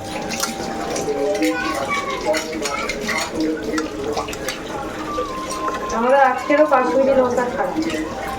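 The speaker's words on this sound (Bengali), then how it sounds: "আমি মাংসটা একটু নেড়ে দিই দাঁড়াও" Meat being stirred in a cooking pot in a home kitchen, with scraping and liquid sloshing of the spoon through the pot under almost constant conversational speech, a louder stir near the end.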